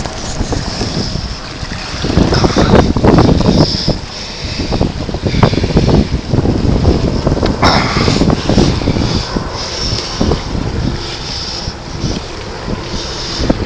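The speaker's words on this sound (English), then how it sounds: "Jim Haney sailing. Look at that." A sailboat running with the wind, heavy wind rush and water noise buffeting loudly and constantly, with no voices.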